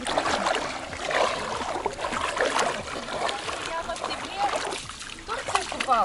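Water sloshes and splashes as someone wades out of Lake Svitiaz, with irregular soft splashes close by while people talk.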